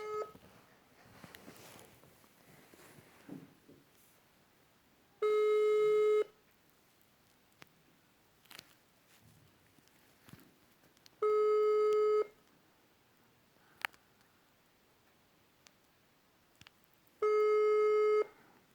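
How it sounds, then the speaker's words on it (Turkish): An outgoing telephone call rings unanswered, with three long, loud ringback tones evenly spaced about six seconds apart and near silence between them. "çalıyor açmıyor arkadaşlar ya"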